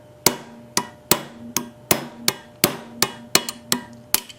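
Sharp metallic hammer blows drive a pin out of a Brownwall hit-and-miss engine part with a 1/8 inch drift. About ten close, loud strikes come at a steady pace, and no one speaks.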